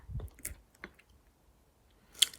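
Crunchy granola with chia seed jam and cacao nibs chewed close up, a few soft crunches and squishy bites separated by quiet pauses.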